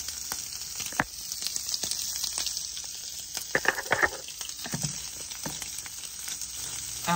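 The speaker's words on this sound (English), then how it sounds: "Now we're frying the sausage." Steady sizzling and crackling of sausage frying in a pan, with occasional scraping clicks and stirring sounds, close and continuous.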